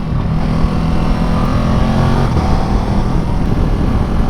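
A 2019 Ducati Multistrada 950S with quick shifter and hydraulic clutch accelerates hard, a loud sustained engine roar mixed with wind rush, steady and close throughout.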